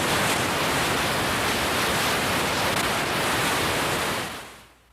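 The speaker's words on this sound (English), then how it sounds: "Another common generator has an interesting name, a white noise generator." Steady broadband hiss from an electronic white noise generator, loud and constant for about four seconds before fading out, with no pitch and no talking.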